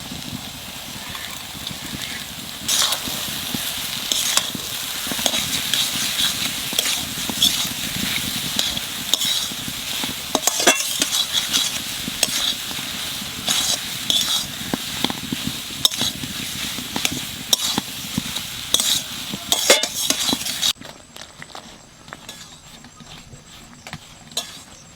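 Boiled eggs and potatoes frying in oil in a pan during village cooking, with steady loud sizzling and repeated scraping, clattering stirs throughout, then the frying drops to a quieter hiss near the end.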